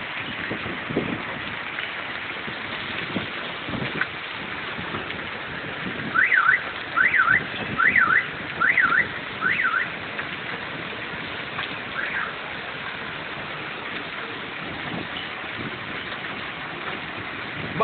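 Hailstorm in Clarkfield, Pampanga, Philippines: a steady, dense hiss of hail and rain falling on surfaces throughout, with a car alarm chirping in several short repeated bursts partway through.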